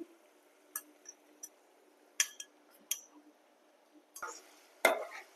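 A spoon scrapes and clinks against a pan while a home-style liver curry with ginger-garlic paste is stirred, several sharp separate metallic taps and scrapes with quiet pauses between, close and clear.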